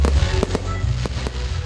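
New Year's Eve fireworks explode in a dense, rumbling barrage, with several sharp cracking bursts standing out over continuous booming, fairly loud and without talk.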